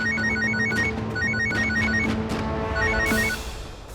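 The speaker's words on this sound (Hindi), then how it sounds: "विवान ने वो छिपाए हुए फोन पर उनका नंबर डायल कर दिया है" A telephone hidden in a hospital doctor's cabin rings after its number is dialed, an electronic ringtone repeating a quick chirping pattern in steady cycles, loud and alone for four seconds.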